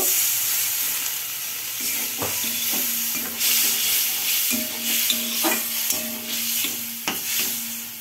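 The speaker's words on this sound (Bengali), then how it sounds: "এবার একটু জল দেব" Water goes into a frying pan of rui fish and vegetable curry, sizzling and spluttering loudly with bubbling pops and scraping stir strokes close by.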